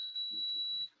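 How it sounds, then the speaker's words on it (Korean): A beauty device used with a facial gel gives one steady, high electronic beep lasting most of a second to signal that it has finished. The tone is clear and alone. "삐삐삐 다 된 거예요."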